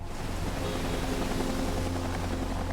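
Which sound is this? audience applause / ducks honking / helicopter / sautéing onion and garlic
helicopter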